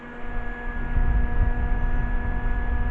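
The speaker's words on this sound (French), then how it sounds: "Un petit ventilateur." A small electric fan hums steadily nearby, a continuous whirring drone with a faint whining tone.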